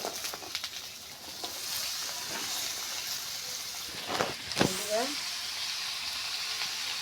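Vegetable stalks frying in a pan with browned onion and chili, a steady bright sizzle throughout, with a few louder stirring scrapes and hisses near the middle.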